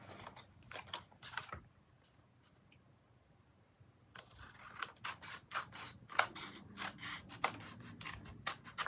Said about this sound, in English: it's real easy with your scissors to do it as well